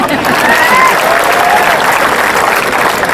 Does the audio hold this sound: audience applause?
yes